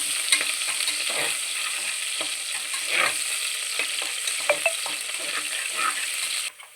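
Onions frying in a pan for khichdi, a steady close sizzle with occasional spoon scrapes and taps against the pan, alone and ending abruptly.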